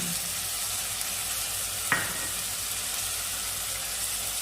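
Ginger and garlic paste with ground cumin and chilli powder frying in a pan for ghugni, a steady quiet sizzle with one brief scrape of the spoon partway through.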